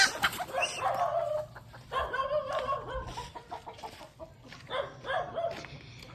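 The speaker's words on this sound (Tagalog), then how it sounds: "Okay, nakagawas na naman tong isang manok." Chickens on a small farm in Davao de Oro cluck in repeated bursts close by, with quieter pauses between and faint background noise.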